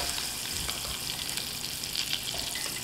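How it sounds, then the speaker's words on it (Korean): Flour frying in melted butter in a pan for a brown roux, a steady soft sizzle throughout with faint stirring scrapes, heard alone. "버터 녹으면 밀가루 들어갈게요"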